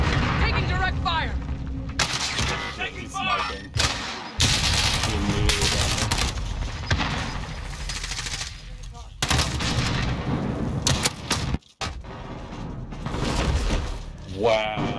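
Rapid bursts of automatic gunfire and heavy explosions in Call of Duty Warzone multiplayer combat, loud and dense, with several abrupt cuts and a brief drop to silence near the end, voices calling out between the shots.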